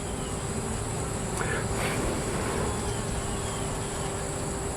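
Italian honey bees buzz steadily inside an open hive during an inspection, a continuous dense hum with a faint voice at one point.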